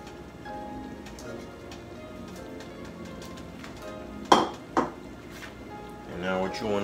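A Haitian legume of mashed vegetables and spinach being stirred in a cooking pot, with a continuous bubbling simmer, a couple of sharp spoon knocks against the pot near the end, and faint talk in the background.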